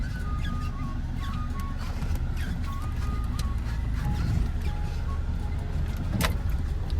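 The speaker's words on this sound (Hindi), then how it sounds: "तो इसी व्यू पॉइंट पर मैंने गाड़ी उतार दी।" Car easing off the road at a hillside viewpoint on a drive from Guwahati to Bomdila, a low steady engine rumble with faint rattles and clicks, close and continuous under a light background hum.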